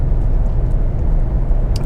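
A 3.7-liter V6 Mustang fitted with a Borla S-Type exhaust idles or runs steadily, giving a loud, deep, even rumble with no voices.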